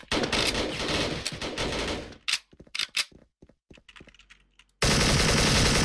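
Airsoft AURORA AK74 2nd Gen rifle firing in a sustained loud burst, then a stretch of scattered short shots, then another continuous burst at the end, no talk.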